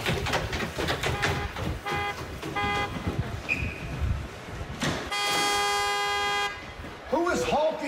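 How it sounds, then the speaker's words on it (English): Car horn honking at a WWE SmackDown arena segment, a sustained loud blare of a couple of seconds over crowd noise and talk, with shorter toots before it. "Who is honking the horn?"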